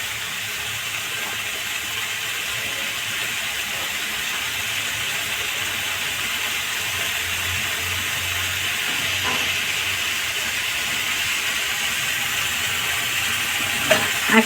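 Green chillies sizzle in a hot pan with a steady, hissing fry that holds evenly throughout, ending with a couple of faint clicks; no one speaks.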